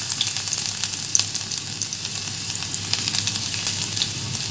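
Ginger sizzles in hot coconut oil with cinnamon and cloves, a steady, close crackling hiss with small pops throughout and no voices.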